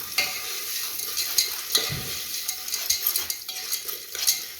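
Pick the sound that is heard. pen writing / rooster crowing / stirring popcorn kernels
stirring popcorn kernels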